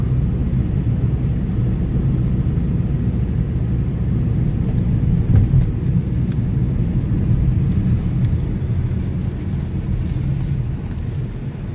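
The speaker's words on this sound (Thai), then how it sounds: "ขับรถเที่ยวในเมือง" A car driving through the streets of Reykjavik, a steady, close low rumble of engine and road noise with some wind buffeting, continuous throughout with no talk.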